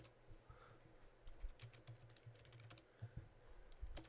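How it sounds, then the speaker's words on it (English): A computer keyboard clatters quietly with a quick, irregular run of key presses as a password is entered, close by and with no talking. "let me type in a password here."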